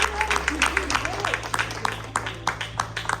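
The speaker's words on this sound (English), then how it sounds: "Give him a big round of applause" A small group at a live holistic energy demonstration claps in scattered, uneven applause, fairly close, with a low hum underneath and some voices mixed in.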